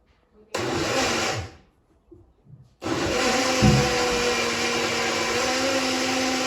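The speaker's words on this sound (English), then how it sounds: "then I pop it in the blender" Kitchen blender whirring loudly as it purees fruit for baby food, running in two bursts with a short pause between, then a long steady grinding drone.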